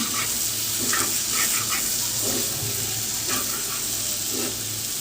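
Dried fish sizzles in hot oil in a pan, a steady frying hiss broken by short scraping strokes of a stirring spoon at irregular moments, close and moderately loud.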